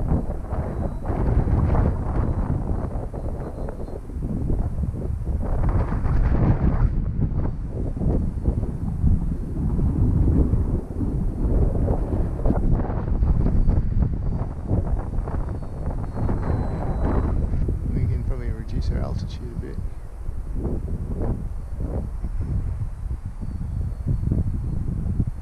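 Strong gusty wind buffets the microphone outdoors during a beginner's flight of a SuperEZ radio-controlled plane, a steady loud rumble that fills the whole stretch with no voices.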